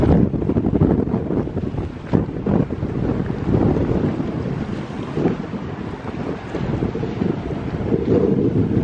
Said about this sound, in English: Bet you can hear that wind